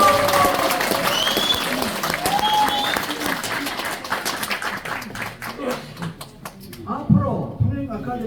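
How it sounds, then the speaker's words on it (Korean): An audience at a lecture event claps in a dense burst that thins into scattered, uneven claps toward the end, with a few voices and whistle-like calls heard over it. "감사의 박수 한번 부탁드리겠습니다."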